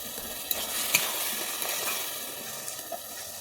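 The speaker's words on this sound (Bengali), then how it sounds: "নারকেল কুড়ো দিয়ে আমি আবার একটু ভালোভাবে নেড়ে নিচ্ছি" Ash gourd curry being stirred in a pan with coconut and ground rice added, giving a steady close scraping and gentle sizzle with a few sharp spoon knocks against the pan.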